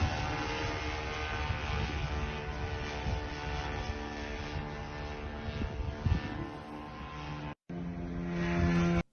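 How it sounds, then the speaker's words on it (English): Ukrainian attack drone flying over the Ryazan airfield, a steady droning engine hum with a continuous whine, sustained for several seconds before briefly cutting out and resuming. "we also got to see the Ukrainian drone flying over"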